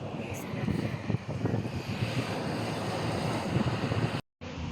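Waves wash through a sea strait in Singapore beside a reservoir, heard as a steady, loud surf roar mixed with gusty wind buffeting the microphone. The sound cuts out briefly near the end.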